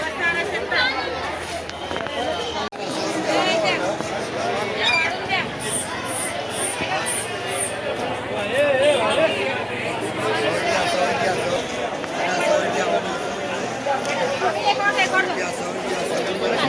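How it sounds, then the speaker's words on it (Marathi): Dense crowd chatter fills a busy Dadar market in Mumbai, a constant babble of many voices with footsteps and scattered sharp sounds, steady and close throughout. "बघा इकडे तुफान गर्दी आहे"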